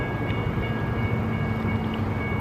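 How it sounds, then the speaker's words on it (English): A commuter train rolls into a station with a steady, loud rumble and a faint sustained tonal whine, ending in a short high squeal. "here comes our train right now"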